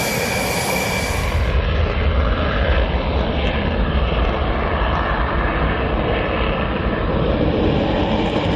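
Dassault Rafale fighter jet engine, a loud, steady broadband roar that fills the whole stretch without pause, sounding close and sustained with no voices.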